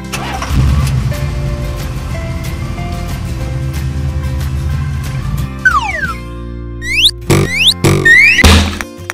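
A toy pickup truck engine effect rumbles steadily for roughly five seconds before cutting to a sequence of sliding whistle sweeps and several sharp, loud thunks near the end.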